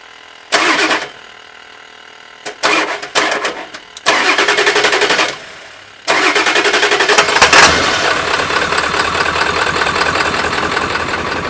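A 2000 Ford F550 dually dump truck with a 7.3 Powerstroke turbo diesel is jump-started cold: several short bursts of loud cranking, then the engine catches and settles into a steady, rattling diesel idle close by.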